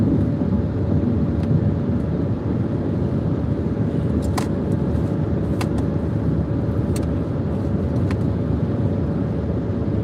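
A truck rumbles past on a curvy road near a military park, a steady, loud low engine roar holding throughout with a few faint sharp clicks over it.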